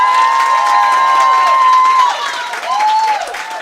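Staff members cheer together, with sustained high voices and whoops rising in a loud, continuous crowd sound that dips briefly and then swells again.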